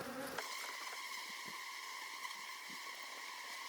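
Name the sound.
honey bees buzzing during beehive relocation from water meter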